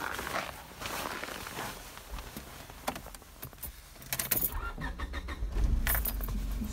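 A 1999 Honda car is started after a jump start with jumper cables, with rustling and key jangles first, then an engine catching and settling into a low, steady idle nearby.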